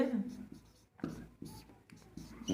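Pen scratching on paper while notes are written during a chemistry lecture on solutions, short strokes in an uneven rhythm, faint and close, under a man's speech.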